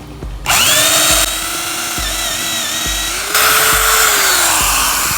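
A power drill bores a long hole, about five inches deep, for a carpenter bee trap, whining loudly and steadily up close with a brief pause and a pitch shift as the bit sinks deeper.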